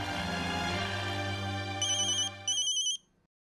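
A telephone ringtone plays as a bright repeating melody, loud and close, then cuts off abruptly near the end with no talk over it.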